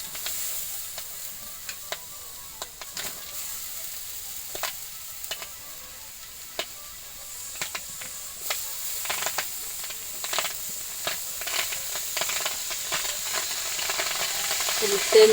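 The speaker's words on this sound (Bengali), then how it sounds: "এবার পেঁয়াজ দিয়ে দিব।" Onions fry in oil in a kadai for a home-style chicken curry, giving a soft, steady sizzle and hiss with scattered sharp crackles and stirring clicks that grow livelier toward the end.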